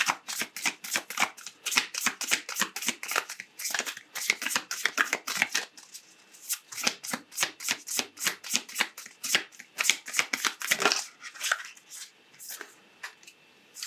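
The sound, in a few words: shuffling oracle cards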